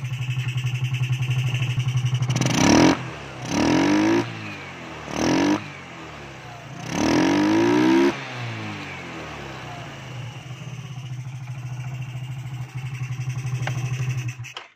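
A motorcycle engine, just repaired for a carburetor diaphragm fault, idles steadily and then revs hard in four loud bursts before settling back to a rumbling idle, close up with no talk.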